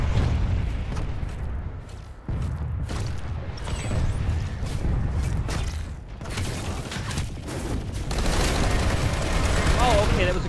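Gunfire in the online shooter Planetside 2, bursts of rapid automatic shots and booms rattling through a busy battle mix, with a person talking over parts of it.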